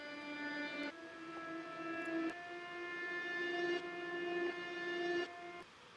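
Reversed piano heavy with reverb, sustained swelling tones that rise and cut off abruptly at chord changes, quiet and alone.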